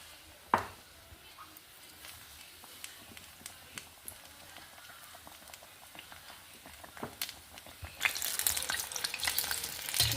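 Okra fritters (bendekai bajji) fry slowly in oil with a soft, steady bubbling hiss and scattered small pops, the sizzle growing louder and brighter near the end.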